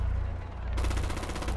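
Rapid automatic gunfire in Rainbow Six Siege, a dense, loud burst of close shots rattling in quick succession over a low rumbling background.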